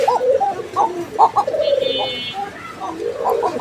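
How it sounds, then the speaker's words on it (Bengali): White Arabian koka pigeon giving repeated rolling coos in short bursts, close and clear, with a faint high chirp partway through and no talking. "হোয়াইট আরাবিয়ান কোকা হ্যাঁ হোয়াইট আরাবিয়ান কোকা সারাদিন ডাকবে সারাদিন"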